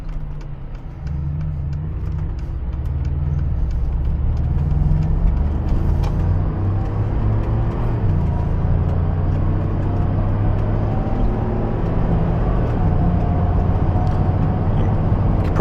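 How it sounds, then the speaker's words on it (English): Steady broadband roar and low rumble of wind and road noise inside a Mercedes-Benz G550 4x4 Squared cruising at highway speed, continuous and even with a faint engine drone underneath, no talking. "the wind noise is crazy in this thing. Like, you just hear the howling the entire time you're driving"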